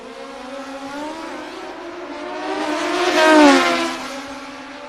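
A Kawasaki drag racing motorcycle idles and pulls forward into the staging lane at a sportsman drag strip, its steady engine note swelling to a louder rise near the end before easing back, heard alone.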